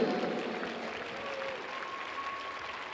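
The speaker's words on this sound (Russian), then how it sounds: "Ваши овации! Бурные овации!" An arena crowd applauds figure skating pair winners at an exhibition gala in Minsk, a steady, fairly distant wash of clapping that holds at an even level for the whole stretch.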